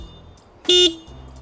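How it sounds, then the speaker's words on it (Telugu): A Yamaha FZS Hybrid motorcycle from 2026 gives one short, loud, steady horn blast lasting about a fifth of a second, close by against a quiet idling background. "చాలా లౌడ్ హార్న్ ప్రొవైడ్ చేస్తున్నారు."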